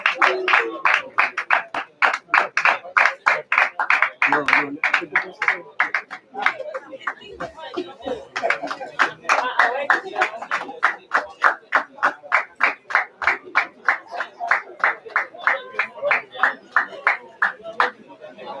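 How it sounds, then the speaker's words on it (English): Sustained clapping from a crowd at a library event, brisk and dense, continuing steadily for the whole stretch with slight swells and dips. "Let's give him a round of applause"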